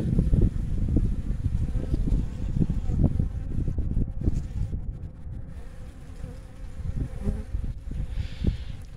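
Honey bees buzzing steadily at a hive, close and continuous, a dense low drone with wind rustling the microphone and no talking.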